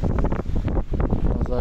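Heavy wind buffets the microphone with a loud, rumbling roar throughout, muffled speech faintly audible underneath.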